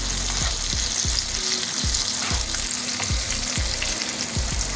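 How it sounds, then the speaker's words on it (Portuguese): Squid ink spaghetti with shrimp and pepper sizzles loudly in a hot pan while a utensil stirs it in quick, regular strokes, about two to three scrapes per second, close up with no talking. "É a pimenta agora. E agora vamos mexer."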